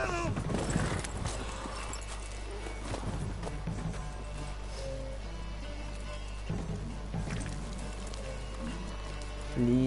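Horse hooves clip-clop at a gallop in The Witcher 3, a steady patter running under game music and ambient noise, with a brief shouted voice near the start.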